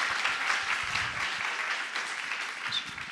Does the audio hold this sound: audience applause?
yes